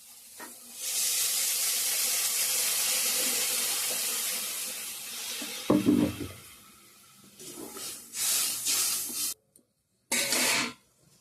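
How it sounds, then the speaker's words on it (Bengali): Hot water poured into a pan of frying potato, cauliflower and spinach fish curry gives a loud steady hiss and sizzle for several seconds, then a few shorter bursts of hissing with brief clatters between them. "এখন গরম জল দিয়ে দেব"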